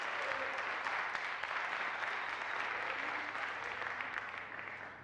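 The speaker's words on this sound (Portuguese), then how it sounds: "Dê uma salva de palmas para o Senhor" A church congregation claps together in sustained, dense applause that holds steady for several seconds and then tapers slightly at the end, with no voices standing out.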